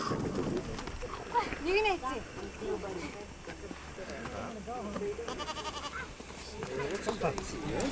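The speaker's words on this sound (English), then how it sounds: "And now it's time to milk the goats." Goats bleat repeatedly, close and loud, at milking time in a busy Mongolian farmyard with birds chirping and people talking nearby.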